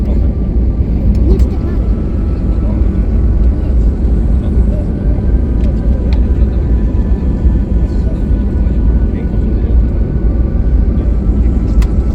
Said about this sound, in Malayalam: ഫ്ലൈറ്റ് താഴ്ന്നുകൊണ്ടിരിക്കുകയാണ്.